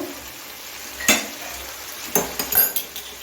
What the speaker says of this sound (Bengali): এখন আমি ভালো করে কষিয়ে নিচ্ছি